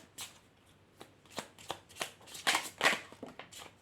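Oracle cards being shuffled by hand, a run of crisp riffling flicks and soft slaps that build into a denser burst near the end before easing off, close and fairly quiet, with no talking.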